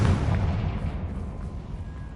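A booming fire-spell blast from the Confringo charm in Hogwarts Legacy, cast inside a cavern: a heavy, rumbling explosion that hits hard at the start and then rolls on as a dense low roar.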